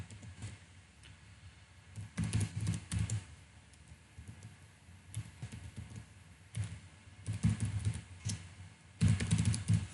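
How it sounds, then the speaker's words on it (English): Someone types a C program on a computer keyboard, producing clustered runs of clicky keystrokes separated by brief pauses, close and moderately quiet, with no voices. "then guys we can type whatever we want"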